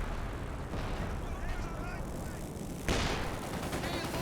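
Gunfire and shell hits from the World War II strategy game Company of Heroes 2, with a T-34 and StuG in battle, heard as dense continuous cannon and small-arms fire with a sharp blast near the end.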